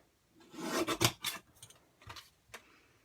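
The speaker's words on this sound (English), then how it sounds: "So I'm going to grab my little trimmer here. I'm going to just trim this out." Small paper trimmer slicing card stock for a handmade embossed card, a quiet close scraping rasp in a few short strokes, then a final brief cut.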